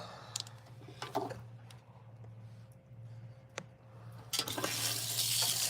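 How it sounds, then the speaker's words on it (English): A hair bundle is rinsed under running water at a salon sink, with scattered handling clatter over a low hum and then a strong, steady rush of water near the end. "I'm gonna rinse this bundle out."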